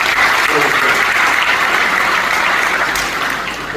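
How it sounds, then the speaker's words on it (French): Applause for a graduating class at a business school ceremony fills the hall, a dense, loud, sustained clapping from a large crowd that fades slightly at the end. "je vous prie de vous applaudir pour l'effort que vous avez fourni"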